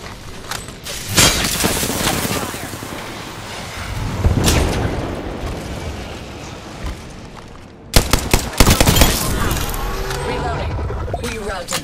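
Gunfire in Apex Legends: dense bursts of automatic weapon fire and sharp shots, loud and close, with a brief lull before another heavy volley, mixed with game effects and voices talking.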